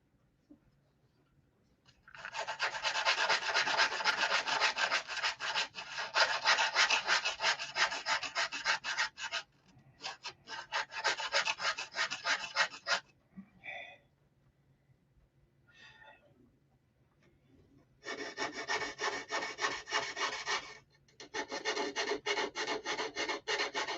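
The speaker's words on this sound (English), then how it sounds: "I'm going to sand this whole thing down to basically nothing." Wood is sanded down by hand to fit a hinged part, with long bursts of rhythmic, close back-and-forth rasping separated by short pauses.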